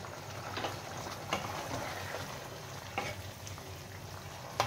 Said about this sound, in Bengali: জলটা ফুটতে শুরু করেছে